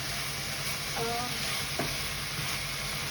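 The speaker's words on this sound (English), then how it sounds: "So, I'm gonna put the pork is getting cooked." Pork fries in a pan with a steady close sizzle and hiss, broken by a few brief stirring scrapes, alone without speech.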